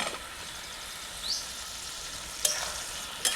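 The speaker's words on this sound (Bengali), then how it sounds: "আলু দিয়ে ভালো করে কষে নিয়েছি" Potatoes frying in masala in a pan, a steady close sizzle broken by a few sharp stirring scrapes and clicks near the end.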